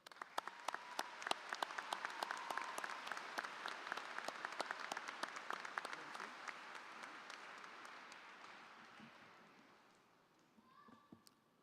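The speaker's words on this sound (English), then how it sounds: "A round of applause." A high school commencement crowd applauds, many hands clapping in a broad wash with crisp individual claps on top, swelling early and then gradually fading out toward the end.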